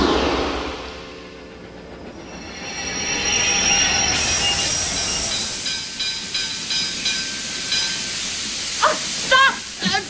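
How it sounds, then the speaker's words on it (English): A train rumbles and hisses nearby with a rising squeal of wheels and steam, loud and sustained. "Stop! Don't get on that train."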